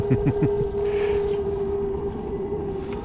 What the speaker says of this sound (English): Reasonably stealthy, except for the noise of the heater.